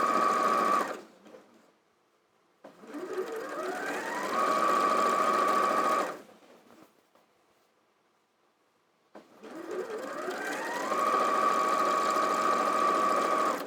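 A domestic sewing machine stitches down quilt seams in two sustained, loud bursts of motor whir, each rising in pitch as it speeds up, separated by a quiet pause.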